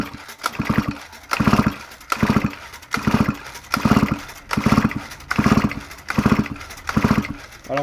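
A chainsaw's starter cord is pulled again and again on an engine flooded with gasoline, in a steady rhythm of about eight ratcheting, whirring pulls, each a short rising rattle, close and loud, with the engine never catching.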